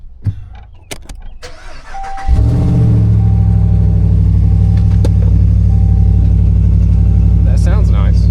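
A few clunks, then a Jeep engine starts and settles into a loud, steady rumbling idle nearby, running continuously to the end.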